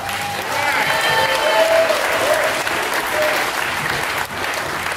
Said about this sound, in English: So one of a round of applause here.